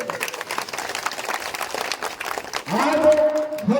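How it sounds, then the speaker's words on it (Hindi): Outdoor crowd at a local development event in a Bihar district claps to welcome a guest, scattered applause for a few seconds before a voice on a loudspeaker cuts in over it. "हाथ उठा करके हमारे जिले में का स्वागत करें तालियों की गड़गड़ाहट से"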